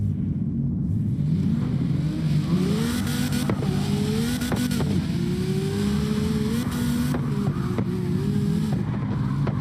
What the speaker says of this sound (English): You can see how quickly he can set this car into a drift in any given circumstances